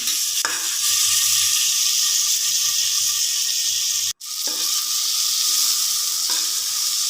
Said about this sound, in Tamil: தக்காளி போட்டு கொஞ்சம் நேரம் வதக்குங்க